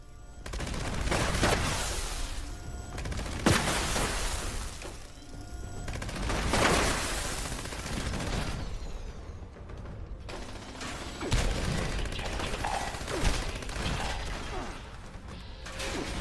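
Automated turrets fire in the video game Fallout 76, sharp bursts and rattling volleys with mechanical clatter between them, loud and close, recurring across the span with brief quieter gaps.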